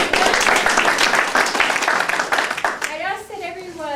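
An audience applauds at a community annexation forum in a dense, loud burst that fades after about three seconds, and a voice starts talking over the tail.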